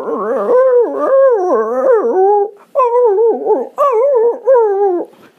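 A human voice mimics a hurt puppy's whimpering, producing close, loud, quavering whines in several bursts separated by brief gaps.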